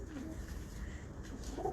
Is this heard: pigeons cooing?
yes